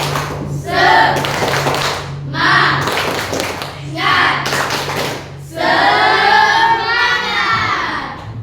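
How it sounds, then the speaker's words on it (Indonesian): In a classroom, children do a rhythmic clapping game with a teacher: four loud bursts of clapping and chanting voices, separated by short pauses, the last one longest. "Ustaz akan kasih permainan yaitu tepuk semangat."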